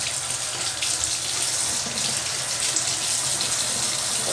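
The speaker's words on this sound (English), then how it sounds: "Then I turn on the faucet to about a warm-ish level," Steady warm water gushing from a sink faucet, a continuous close hiss and splash with no pauses and no voices.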